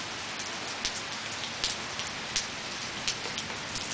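Steady rain falls during a storm, a dense continuous hiss dotted with sharper drops and splashes, heard alone with no voices.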